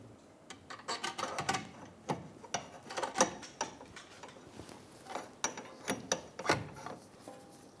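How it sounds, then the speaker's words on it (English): A ratchet tightens the front left inner tie rod on a 2007-2011 Toyota Camry, giving quick, close clicking runs in uneven bursts separated by brief pauses. "Snug down the inner tie rod and torque it to 50 foot-pounds."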